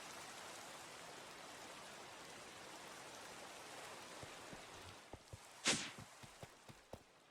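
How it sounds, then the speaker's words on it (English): Steady rain hiss from a Minecraft ATM8 modpack world fills the whole stretch, fairly soft and constant, with a few sharp clicks and a brief bright burst near the end. "sleep through this night just because of annoying rain sounds."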